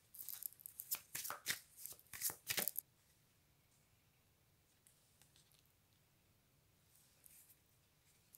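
Tarot cards are shuffled and drawn in a quick burst of crisp, papery flicks and slaps for about three seconds, close by, followed by near silence with a few faint rustles.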